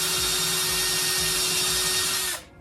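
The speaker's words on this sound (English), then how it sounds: "find a drill bit that fits these pins perfectly" A power drill bores a hole in a wooden test board with a bit sized for 5mm pins, during a DIY built-in storage job for a tiny bathroom; steady, loud, close whirring that runs continuously before cutting off at the end.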